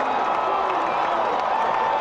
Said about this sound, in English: A lot of applause by the fans here in the Bronx.